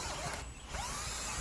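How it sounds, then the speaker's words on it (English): A power drill bores a hole through a garden post so rebar can be fed through, giving a steady close whine that dips briefly mid-way before resuming at full strength. "all that involves is drilling out a hole"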